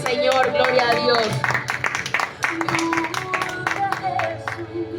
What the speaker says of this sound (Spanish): Fuerte aplauso para el Señor, gloria a Dios.